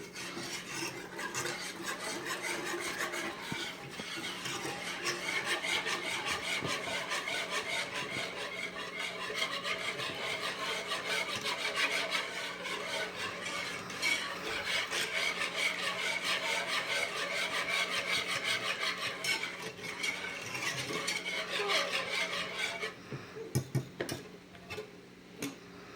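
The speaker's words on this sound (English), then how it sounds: "Just whisk it." Heavy cream is whisked in a pan for chicken broccoli Alfredo, making a continuous fast scraping, ticking rattle of the whisk against the pan that runs steadily for most of the stretch and then thins out.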